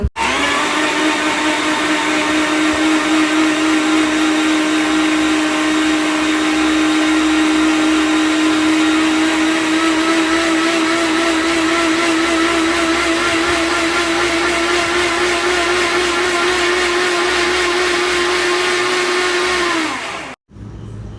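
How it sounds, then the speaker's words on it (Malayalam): A mixer grinder churns milk cream in its jar, a loud continuous high whine holding steady for about twenty seconds before abruptly cutting off. "അത് നമ്മുടെ പാൽപ്പാടയാണ് അത് ഞാൻ എടുത്തിട്ട് മിക്സിയുടെ ജാറിലോട്ട് ഇട്ടു"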